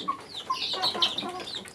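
Desi chickens cluck and chatter in a loose, overlapping stream of short calls, close by and moderately loud, with no talking.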